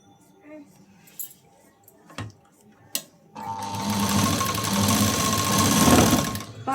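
A sewing machine stitches the lining of a size-44 blouse, a few sharp taps and clicks giving way to a steady, loud mechanical whir that runs continuously to the end.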